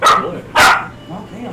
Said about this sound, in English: If you guys hear barking, I apologize.